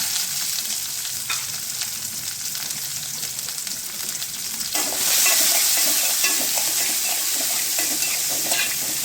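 Small onions sautéing in hot oil with popped mustard seeds, a dense close sizzle that grows louder and brighter partway through as stirring continues.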